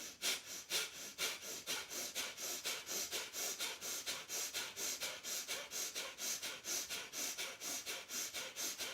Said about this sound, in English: in and out through the nostrils, pumping the belly vigorously to the spine with each